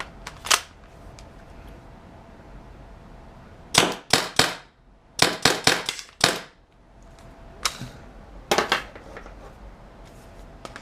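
A Tippmann TIPX paintball pistol running on CO2 fires sharp, close shots, one early and then quick pairs and clusters in a broken rhythm, with no talking.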